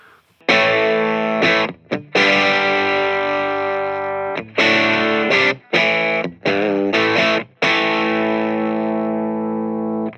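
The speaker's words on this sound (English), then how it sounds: "So we'll start with kind of a low gain setting here." A Hiwatt Leeds 25R guitar amp on a low gain setting rings out loud in sustained, slightly fizzy chords, the strums separated by brief gaps of silence.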